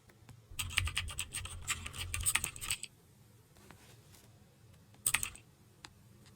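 Keyboard typing sound effect: two bursts of rapid, crisp key clicks, the first lasting about two seconds and a short second burst later, separated by near silence, close and clear with no voices.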